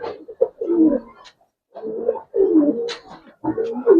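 Pigeons of the Giribaz and coloured fancy breeds coo in a loft, three close, loud bursts of throaty rolling calls separated by short silences.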